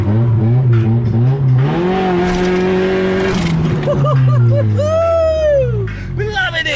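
A Honda Civic EJ with a VTEC engine revs hard on the move in a convoy, its pitch climbing and dropping through several pulls, loud and close, with voices speaking over it.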